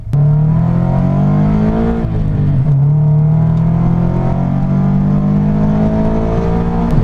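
A Subaru BRZ under full throttle, heard from inside, drones loudly and steadily as the engine pulls, its pitch climbing through the revs with a short dip around a gear change, and no talking.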